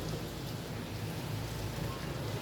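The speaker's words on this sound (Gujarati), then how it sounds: "જો મિત્રો વરસાદ જામનગરમાં ધીમો ધીમો ચાલુ છે સવારનો." Light steady rain falls in Jamnagar, an even, close hiss of drops with a low rumble underneath, continuous throughout.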